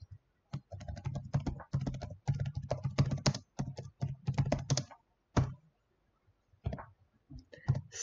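Steady bursts of keystrokes on a computer keyboard while entering text into an Excel stock-management sheet, close and fairly quiet, in uneven runs separated by short pauses.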